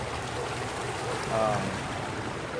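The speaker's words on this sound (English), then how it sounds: "This is the waterway where we wash our clothes, and some people bathe" Water flows steadily through a small man-made river in Township 9 Park, where people wash clothes and bathe, a constant rushing wash that fills the whole moment, with a faint voice briefly audible under it.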